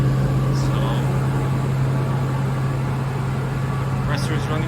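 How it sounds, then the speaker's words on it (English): A KAESER screw compressor runs and builds pressure with a loud, continuous low drone and a steady tonal hum that stays even throughout. "Compressor is running fine, it's building pressure very well."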